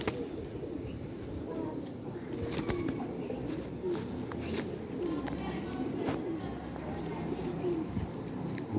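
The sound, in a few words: pigeon cooing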